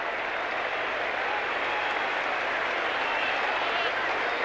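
A crowd claps steadily and densely throughout, a broad wash of applause filling the MCG stadium at a 1987 VFL semi-final football match, without pause.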